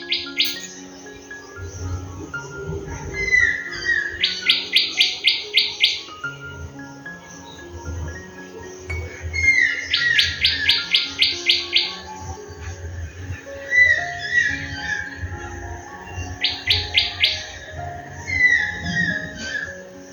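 Doves around a house at early morning, with soft rhythmic low calls under repeated bursts of bright trilling bird chirps that return every few seconds, fairly close.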